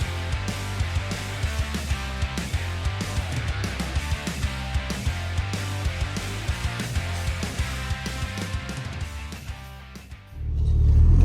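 The engine of a Toyota MR2 Turbo runs steadily close by with a low, throbbing idle and rhythmic pulses, then swells sharply into a rev near the end.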